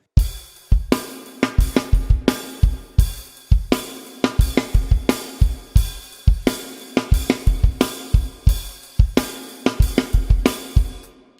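A driving drum beat repeats steadily: punchy kick, cracking snare and busy hi-hat, loud and close with short breaks between phrases.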